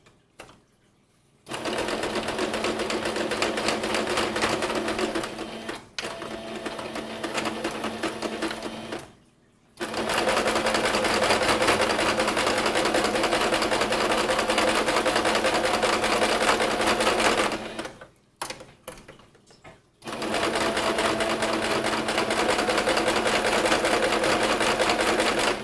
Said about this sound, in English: We're going to back stitch, sew, back stitch, keeping the same distance along the whole way.